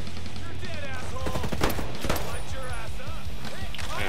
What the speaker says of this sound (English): I just shot him in the leg with a shotgun